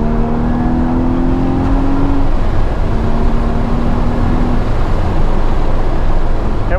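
A Porsche GT4 engine downshifts, a loud, steady drone close by whose tone rises and falls as gears change, with a brief climbing rev midway.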